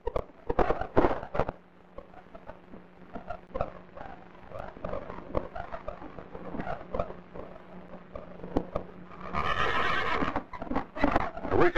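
A horse in a 1935 adventure film neighs loudly in a long, shrill whinny late in the scene. Hoof clatter, crackling effects and busy action sound fill the rest of the scene.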